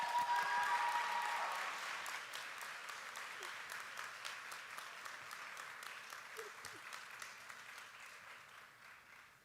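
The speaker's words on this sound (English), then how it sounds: "Let's give Dr. Hyater-Adams another round of applause, please" Audience at a university academic convocation applauds a speaker with a dense, sustained wash of clapping that starts full and eases to a steadier, slightly softer level. A brief voice may be audible near the start.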